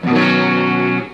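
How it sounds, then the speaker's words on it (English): Electric guitar played through a micro amp head, one sustained chord ringing loud and steady with a slight preamp fuzz and distortion, then cut off after about a second. "that slight fuzz you're hearing is not the GoPro going over in the audio meter"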